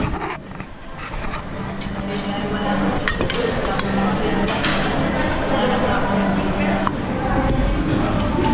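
Metal utensils scrape and clink against a heavy stone bowl while stirring bibimbap continuously, close up, with a voice talking over the mixing.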